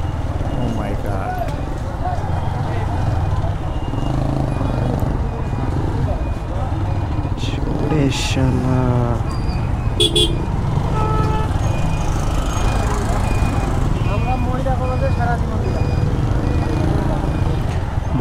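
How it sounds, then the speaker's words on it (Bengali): Traffic jams up on a narrow road lined with houses on both sides, with a steady rumble of engines and passing vehicles, brief horn-like squeals and clattering, while people talk loudly over the noise throughout. "সামনে তো জ্যাম লাগে গেছে"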